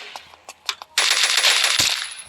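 Gunfire in a shooter video game, a few quick scattered shots followed by a dense burst of rapid automatic fire, close and loud.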